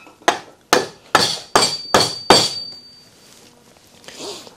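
Six sharp, evenly spaced hammer blows drive an oak peg through a timber-frame joint in a barn build, loud and close with ringing decays, then a quiet pause and faint shuffling.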